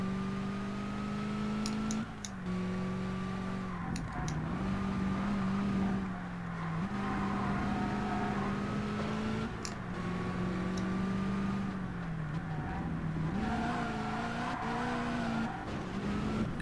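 A race car engine in the DTM Race Driver 2 video game, straining at high revs and holding long droning notes that dip and rise as it fails to shift gears, with tire squeals, loud and continuous.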